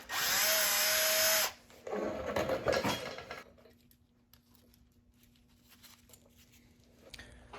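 Power drill boring a hole in a BMW 330i engine while fitting an oil pump tensioner, one sustained whining burst of about a second and a half, then rougher grinding bursts, followed by quieter shop noise.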